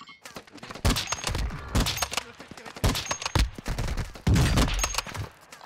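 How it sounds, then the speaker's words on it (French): Gunfire in the video game Warzone 2 comes in repeated bursts of rapid shots, some close and loud, others fainter, separated by short gaps. "Ça me tire dessus dans la ville"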